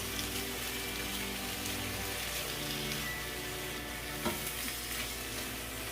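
Beef and broccoli with a dollop of black pepper sauce is tossed in a hot pan, giving a loud, steady sizzle and frying crackle with a few stirring clatters. Nobody speaks.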